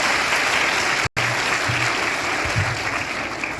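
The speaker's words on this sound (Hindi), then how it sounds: "बहुत अच्छे, सब लोग तालियां बजाइए।" Applause from a classroom of students in a school lesson, a steady dense wash of clapping that runs throughout with a brief dropout near the start, fairly loud and close.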